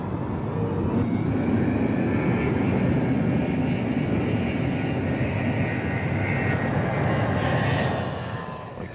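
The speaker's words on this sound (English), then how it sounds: "Gave it the power and took off" Boeing 707 jet airliner engines spooling up to takeoff power, a loud steady broadband roar with a rising whine that holds for several seconds before easing slightly at the end.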